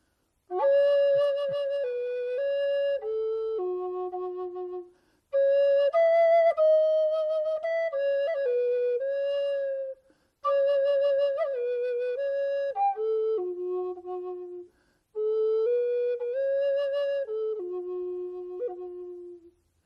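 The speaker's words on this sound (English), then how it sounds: "with just a couple notes of kind of gratitude on the flute" Flute playing a few short melodic phrases alone, four separate clear passages of sustained and stepping notes with brief silences between them, close and steady in loudness.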